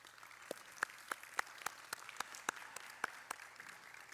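Light, scattered applause from a small audience, quiet and distant, with irregular individual claps rather than a dense roar.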